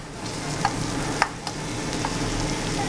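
Small pieces of meat fry in a pan with a continuous close sizzle, punctuated by a few light clicks and scrapes from stirring.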